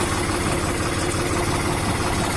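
A New Holland TT4 tractor engine idling at low revs, a steady loud rumble that continues without change and with no talk over it.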